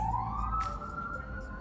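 An emergency siren sweeps upward in pitch and holds a high wail, loud and close, over a low street rumble.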